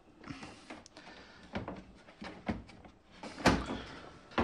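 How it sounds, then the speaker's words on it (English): A front decor panel is fitted onto the door of a flatpack kitchen dishwasher, making close, irregular knocks, thumps and scraping clatters, with a sharp louder bang near the end and no talking. "just fitting this front decor panel onto the dishwasher"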